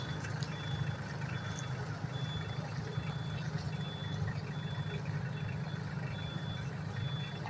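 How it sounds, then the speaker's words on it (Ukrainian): A Solis tractor drives in reverse in low second gear, its steady engine drone running loud and close throughout, with a faint regular reversing beep repeating over it. "Так, на задній передачі їдемо."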